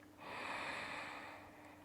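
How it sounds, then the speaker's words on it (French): One slow, deep inhalation through the nose during a relaxation breathing exercise, soft and close, swelling and then easing off, with no talking. "Encore une fois, inspire."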